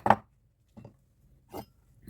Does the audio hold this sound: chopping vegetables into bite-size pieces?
yes